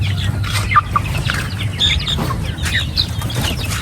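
A kubra chicken, a neckless breed, clucks and flaps its wings nearby at a rural farmyard, with scattered short calls and rustling wing beats over background noise.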